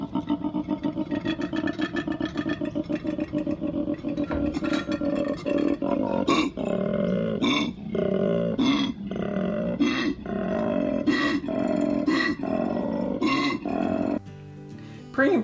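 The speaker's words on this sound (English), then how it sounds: "To intimidate potential intruders, koalas will bellow from the bottom of their lungs" A male koala bellows loudly and repeatedly with deep rasping snorts and grunting inhalations in a rhythmic pulsing pattern, close and alone for the whole stretch.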